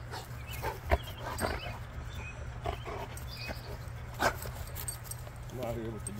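A dog outdoors gives a few short barks and whimpers, faint to moderate against a steady low hum, with a person talking nearby.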